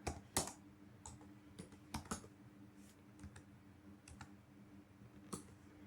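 Typing on a computer keyboard, with faint, close, irregular clicks in short bursts over a quiet background and no voices.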